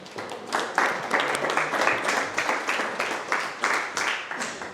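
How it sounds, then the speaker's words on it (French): Applause from a conference audience at the end of a talk about gardens, a dense, steady patter of many hands clapping at moderate volume, continuous throughout with no voices standing out. "Bravo, on peut l'applaudir."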